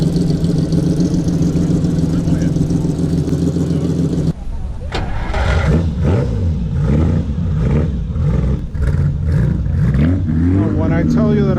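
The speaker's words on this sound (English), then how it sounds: "When I tell you that a 400 Superamerica sounds good, I'm not kidding." A Ferrari 400 Superamerica engine rumbles steadily at idle, then the revs rise and fall in throaty blips, loud and close.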